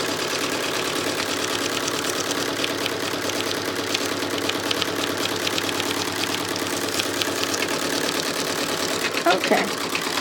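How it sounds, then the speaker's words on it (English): An embroidery machine runs a basting stitch to hold fabric in place for a smocked Easter egg design, producing a steady, rapid mechanical chatter with a faint speaking voice underneath. "the first thing it's going to do is a basting stitch in order to hold the"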